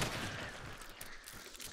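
Gunfire in the multiplayer shooter game Hunt: Showdown, a dense volley of loud overlapping shots and booming reports filling the short moment with little pause.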